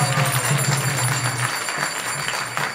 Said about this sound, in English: let's give a big round of applause to those who have joined us here